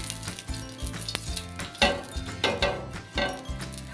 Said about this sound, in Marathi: आता आपण पॅनमध्ये हे छोट्या छोट्या अशा वड्या थापून घेऊया